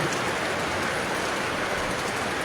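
Heavy rain falls steadily in Fatehpur, Shekhawati, a dense unbroken hiss of drops on surfaces that holds at one level throughout, with no voices.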